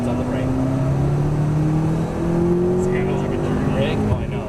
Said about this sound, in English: Tight to the apex, accelerate up to the orange cones on the right.